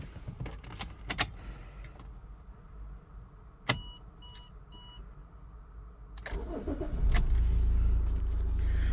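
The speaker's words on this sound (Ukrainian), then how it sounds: "Двигун запускається без жодних проблем" A few clicks and short chimes come first, then the engine of a 2017 Toyota RAV4 cranks and catches, settling into a steady low idle rumble.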